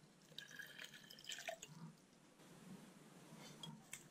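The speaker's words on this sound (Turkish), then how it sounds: "Şimdi biraz su koyuyoruz." Water trickles and drips into a stone vase mould set on a yogurt container lid, a faint, close, wet splashing with small clinks, no voices.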